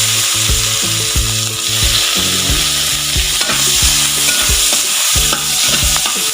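Loud close sizzling as ingredients sauté in oil left over from frying fish, with steady crackle and repeated scraping and stirring of a utensil in the pan, no voices.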